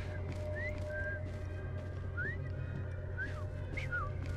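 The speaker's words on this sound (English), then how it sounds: "I've just learned to whistle." A character whistling in Assassin's Creed Syndicate: several short, rising and falling whistled notes spaced irregularly over a steady low background hum, with occasional faint clatter.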